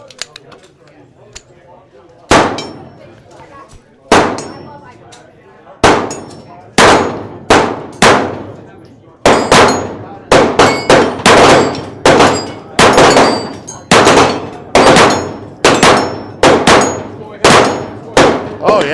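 A SIG Sauer pistol fitted with a Spectre comp fires at steel targets, sharp loud shots with ringing metallic pings, sparse at first then in quick steady strings, with brief talk around them.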